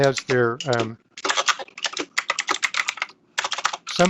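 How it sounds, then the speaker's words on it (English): Rapid clicks of computer keyboard typing come through an open, unmuted microphone during an online meeting, a close, fairly loud clatter in bursts after a brief spoken word. "has their microphone not muted and is typing"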